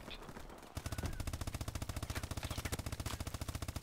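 Rapid automatic gunfire from the Call of Duty video game rattles in a fast, even stream of sharp, loud shots for several seconds after a brief quieter opening.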